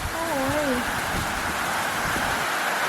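A heavy rainstorm makes a loud, steady hiss of downpour that holds throughout, with a brief voice-like tone near the start.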